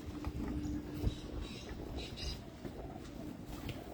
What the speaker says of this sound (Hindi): कबूतर आपको दिखा रहे हैं